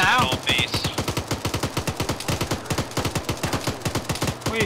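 Arma 3 gunfire, a rapid automatic burst of many sharp shots in a fast steady rhythm, loud and close, with a brief voice at the start.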